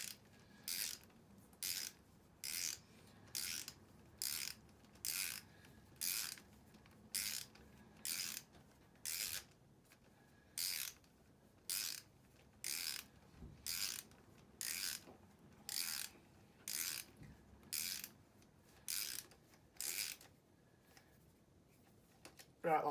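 A ratchet tightens gearbox bolts on a BMW R1150RT motorcycle, its close, crisp clicking coming in about twenty short, evenly spaced bursts with a steady working rhythm.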